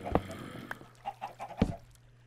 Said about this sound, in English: Oh, these chickens are driving me crazy.